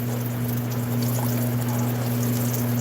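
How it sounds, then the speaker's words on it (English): Hot oil poured and bubbling over an aloo pie frying in a pot, a Trinidad street snack: a steady, close, continuous liquid trickle and sizzle under a constant low hum, with no talking. "You're going to keep pouring oil over your aloo pie."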